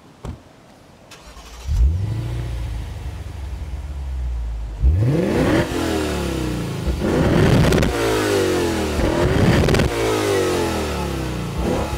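A Lexus IS 500 F Sport V8 sedan cranks and fires up, then revs several times in quick, rising blips. The engine is close and loud, settling between revs to a throaty idle.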